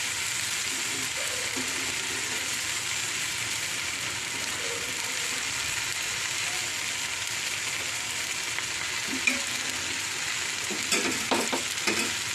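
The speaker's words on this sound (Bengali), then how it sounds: "এবার এর মধ্যে এই পেঁয়াজ কুচিগুলো দিয়ে দেবো।" Chopped onions fry in a pan with prawns, a low steady sizzle under faint clatter, with a sharp utensil knock and a few stirring scrapes near the end.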